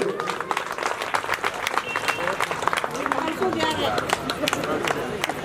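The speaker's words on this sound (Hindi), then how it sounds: "जोरदार ताली बजाएं 500 रुपये" Applause from a crowd at a religious discourse gathering, dense steady clapping running the whole time, fairly loud and close, with a voice speaking over it.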